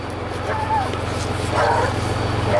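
Farm dogs bark and yip excitedly beside an old John Deere tractor hooked to a manure spreader in a garden, with the engine rumbling steadily underneath and a voice mixed in.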